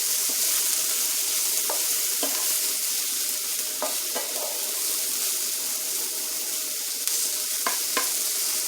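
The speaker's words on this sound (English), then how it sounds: "We're going to put a little bit more fat in because I want this to get nice and sizzly." Ground beef sizzles in added fat in a pan with mushrooms, a continuous close frying hiss broken by occasional scrapes and clicks of stirring.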